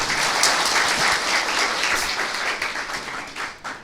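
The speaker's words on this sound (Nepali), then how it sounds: "थ्याङ्क यू हजुर, ताली बजाउँ हजुर।" Steady applause from a crowd, dense clapping that holds for a few seconds and then begins to thin out.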